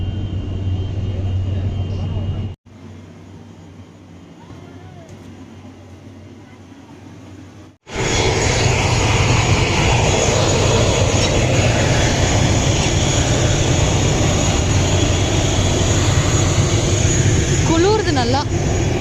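Jet engines roar at an airport where many IndiGo planes stand parked, a loud, steady broadband rumble that cuts in sharply after a quieter stretch and holds to the end, with voices mixed in.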